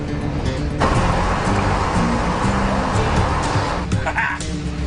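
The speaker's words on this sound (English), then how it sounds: "Start engine." A boat engine starting up and settling into a loud, steady, rumbling idle close by, with a sharp onset early on and a brief rise near the end.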